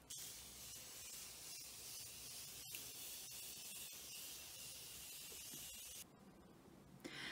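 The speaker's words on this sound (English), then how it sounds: "now we're just going to go ahead and set again using our Morphe Continuous Setting Mist" A Morphe Continuous Setting Mist gives one long, steady spray hiss, held close for about six seconds before a short drop, with a couple of faint clicks and no talking.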